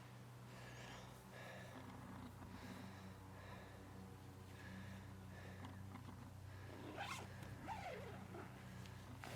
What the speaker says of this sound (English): will you unzip this entrance for me?